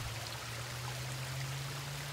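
Streams flowing down the slope of Mount Royal park, a steady gentle rush of running water, close and continuous, with a low steady hum beneath and no talk.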